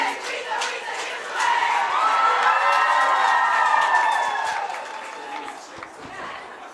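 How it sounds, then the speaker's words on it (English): University of Sheffield supporters at a women's varsity rugby union match roar and cheer after a try, a loud sustained crowd swell with shouting that builds, holds, then eases off over several seconds. "The University of Sheffield crowd in full voice after that superb try and footwork from Lucy Gregg."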